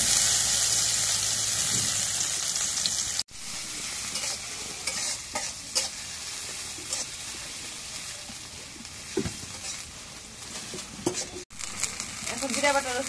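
Bou sundori fish frying in oil in a pan, a steady close sizzle broken by occasional scraping stirs and two brief cuts, with no talking.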